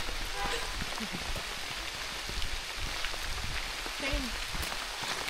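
Rain falls steadily at an autumn campsite in Killarney Provincial Park, a dense, even patter of drops on surfaces with a few louder close taps, heard throughout.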